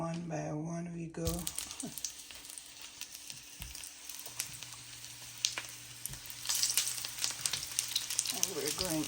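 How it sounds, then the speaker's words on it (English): Chickpea balls dropped into hot oil, an ongoing bubbling sizzle that grows busier as more go in, with a brief voice at the start. "I'm about to put them in the oil now"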